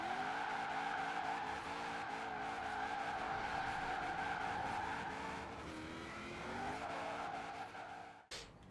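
A fast car in the racing game Forza Horizon 4 skids and slides, its engine droning and rising in pitch while the tyres squeal, loud and continuous before cutting off abruptly near the end.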